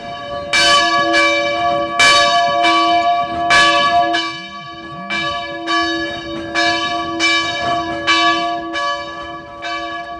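Church bells toll at a funeral, several bells sounding in a slow, repeated pattern that rings out loud and close, each strike followed by a long humming decay.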